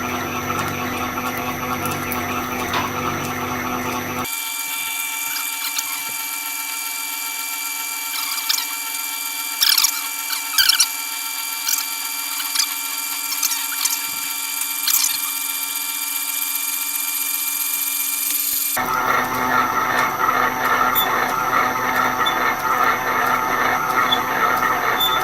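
A camelback drill press runs at slow speed, a steady mechanical drone with a low hum and faint ticking and squeaks from the belt drive, close and continuous with no talk.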